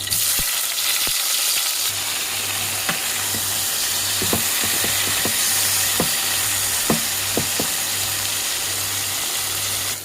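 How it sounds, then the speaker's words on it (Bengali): Brinjal slices fry in hot oil after potatoes, giving a steady close sizzle and crackle for the whole stretch, with scattered sharp pops and a low hum underneath. "এই তেলের ভিতরে বেগুন দিয়ে দিব।"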